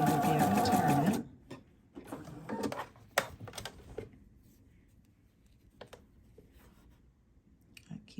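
A sewing machine stitches along the edge of panty fabric in one loud, close burst at the start, followed by quieter handling clicks and rustles.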